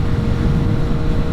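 A Kawasaki ZH2 motorcycle engine revs high while touring on a windy road, a loud, steady low-pitched drone with wind rush that continues unbroken and close throughout.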